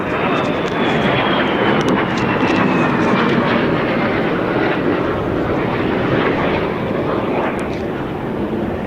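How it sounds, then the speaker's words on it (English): Italian Navy F-35B fighter jet flying inverted in a flyby at an air show, a loud continuous roar that holds steady with a faint falling whine, no voices over it. "Now we can see this beautiful flyby with booger inverted."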